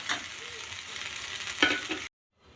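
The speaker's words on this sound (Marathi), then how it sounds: "याला थोडं तेल सुटेपर्यंत छान असं तळून घेऊ, भाजून घेऊ याला" Masala of tomato purée fries in oil for a restaurant-style mutter paneer, giving a brief close sizzle with a stirring scrape before the sound cuts to silence, with no speech.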